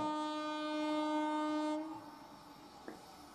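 A WAP-4 electric locomotive sounds a loud, steady horn blast that cuts off after nearly two seconds, leaving the fainter rumble of the passing train and one brief clank.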